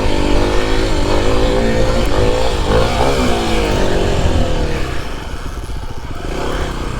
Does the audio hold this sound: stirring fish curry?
no